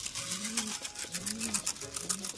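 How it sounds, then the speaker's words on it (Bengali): Domestic Giribaz pigeons being fed indoors in the morning give three soft, rising-falling coos, close by and evenly spaced over light background rustle. "চলো পায়রাগুলোকে খেতে দিয়ে দিই সকালবেলা।"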